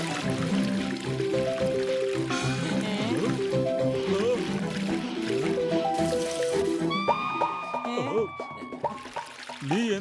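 Liquid rose-plant medicine poured onto rose plants in an animated cartoon, a splashy pouring sound mixed with busy cartoon music and effects.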